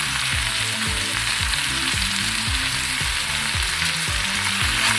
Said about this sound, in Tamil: இப்போ வதங்கிட்டு இருக்கோம்.